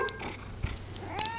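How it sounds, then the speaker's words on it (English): A cat calls out in a short meow indoors, close and moderately loud, with faint rustling around it and no talking. "Meow."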